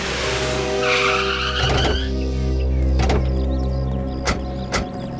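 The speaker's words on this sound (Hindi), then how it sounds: "बस सर, गाड़ी रोक दीजिए यहीं पे सर।" A car's tires squeal briefly as it slows, followed by a few sharp clunks and knocks over a low, steady engine hum.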